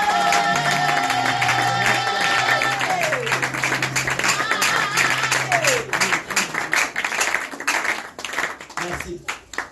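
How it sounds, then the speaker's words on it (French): A church congregation applauding and clapping together at a service, with dense, sustained clapping under a held tone and voices, thinning into scattered claps toward the end. "Acclamons le Seigneur."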